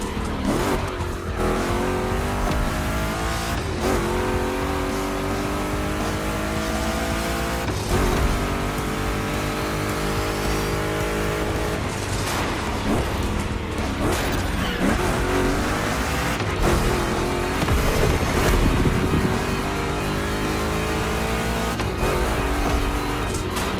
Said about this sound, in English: Two Chevys, two big blocks, but only one winner.